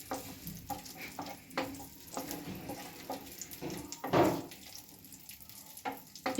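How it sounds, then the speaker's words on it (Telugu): Nuts and seeds frying in a pan for bottle gourd halwa make a soft sizzle, broken up by scraping stirs and faint clinks of the spoon, close and fairly quiet. "ఇవి కొంచెం ఫ్రై అయినాయి కదండి"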